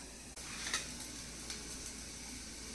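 Cut mushrooms sizzle steadily in a hot pan for mushroom soup, a continuous close frying hiss with a faint stir or clatter near the start.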